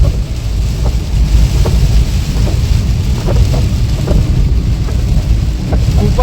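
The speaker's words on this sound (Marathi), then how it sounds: "खूपच डेंजर पाऊस आहे." Heavy monsoon rain pours down on a highway near Kalyan Phata and Bhiwandi, a dense constant roar with low rumbles of thunder and wind buffeting the microphone.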